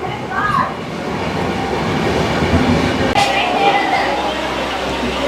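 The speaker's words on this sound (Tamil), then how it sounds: "ட்ரெயின் வந்தாச்சு இந்த ட்ரெயினில் தான் நம்ம ஏற போகிறோம்" A train rumbles in loudly with steady rolling noise and a brief squeal, while people talk in the crowded background.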